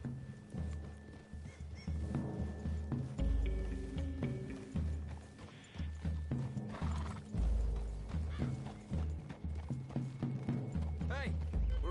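Horses clip-clop at a walk through woodland in Red Dead Redemption, hooves steady under a musical score, with an occasional whinny and snort and a voice talking briefly.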